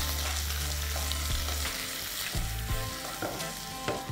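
Ginger garlic paste sizzles loudly in hot oil for a spicy mutton curry while a utensil stirs it, making scattered scrapes and clicks against the pan over a low hum that drops out partway through.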